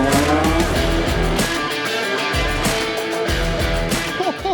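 A fully built E46 BMW M3 race car with a roll cage, fin and diffuser, naturally aspirated, roars loudly and continuously nearby, its engine note rising and falling through gear changes while the tires squeal.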